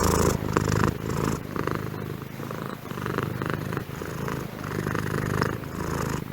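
A pet cat named Beastie purrs steadily and close up, a continuous low rumbling throb that pulses with each breath and carries on without a break.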